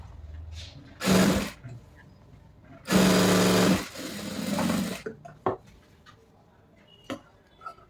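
A sewing machine stitches lining onto a frill-style frock in two loud, close whirring runs, the second longer. Quieter handling and cloth rustles fill the pauses.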